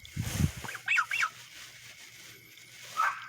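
A goose gives a few short nasal honks in a quiet camping tent, two close together near the start and one more after a pause, with a soft rustle at the beginning.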